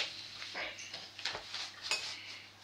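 A knife and utensils clink and scrape on a board while raw ham and coppa are sliced for pizza, with quiet, scattered metallic taps and rustles and no talking.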